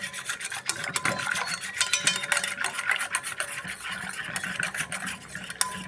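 A spoon stirs and whisks sour yogurt starter into warm milk in a bowl, a steady close scraping and rubbing rasp running continuously with no talk.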